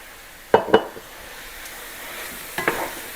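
Beef and red wine being stirred in a pot for beef bourguignon: two quick scraping clatters of a spoon against the pot, a pause, then two more, faint and close, with no talk.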